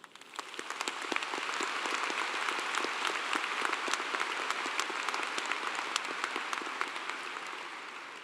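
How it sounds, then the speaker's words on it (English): A large crowd at a Clemson University spring commencement ceremony breaks into loud, sustained applause, a dense wash of clapping hands that swells quickly and holds steady for several seconds. "And I think you all deserve a very loud round of applause."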